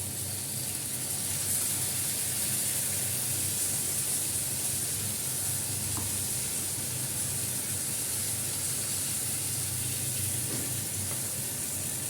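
Yogurt goes into a hot pan for a Bengali doi fish curry, giving a steady, loud, even sizzle and hiss that runs without a break.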